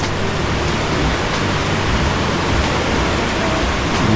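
A river flowing from the Blue Hole in Jamaica rushes loudly and steadily, a dense broadband roar of fast water close by with no voices over it.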